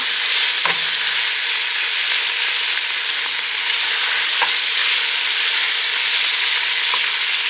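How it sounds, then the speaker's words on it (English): Steady, dense sizzling of bacon frying in a pan, a continuous crackling hiss with occasional louder pops, close and fairly loud, no talking. "the bacon is sizzling"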